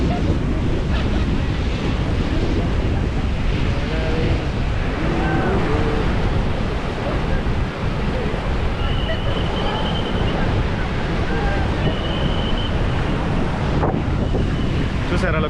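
Ocean waves and strong wind at a beach in Goa, a constant loud roar of surf with heavy wind buffeting the microphone throughout.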